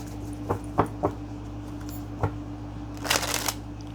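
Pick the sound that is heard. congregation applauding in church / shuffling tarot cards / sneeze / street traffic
shuffling tarot cards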